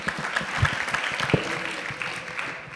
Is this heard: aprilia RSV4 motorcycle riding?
no